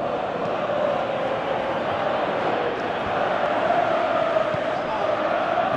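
A stadium crowd roars in Pro Evolution Soccer 18 as Liverpool builds an attack. The steady, dense wash of cheering and chanting fills the scene and swells slightly toward the end.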